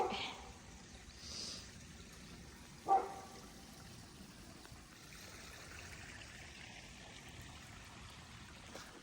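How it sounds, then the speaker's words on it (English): Water flowing in a small creek during winter: a faint, steady trickle and gurgle, with one brief soft thump partway through and no voices. "This is the only time of year we actually see like flowing water in this little creek."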